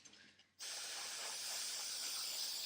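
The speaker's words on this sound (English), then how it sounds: "And just spray paint it on." An aerosol can of spray paint, used on tabletop miniature terrain, begins hissing abruptly after a brief quiet moment and keeps up one steady, close, continuous burst to the end.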